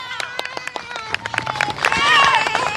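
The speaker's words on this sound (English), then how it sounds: "I'm sure you can hear the clapping much louder behind us" Lebanese supporters at a soccer tournament grand final clap in a quick, uneven rhythm that swells into louder crowd noise and cheering near the end.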